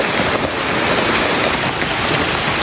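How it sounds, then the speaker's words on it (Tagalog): Heavy rain pours down steadily and loudly, a dense continuous hiss with no voices, recorded outdoors during a dig for ube (purple yam). "ang lakas na ng ulan."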